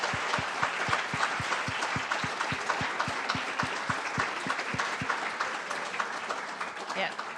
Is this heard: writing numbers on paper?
no